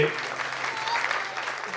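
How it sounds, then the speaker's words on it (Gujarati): An audience at a community donor felicitation event claps in a dense, steady round of applause, with voices murmuring underneath throughout the short burst. "એકવાર તાળીઓથી વધાવો એમને"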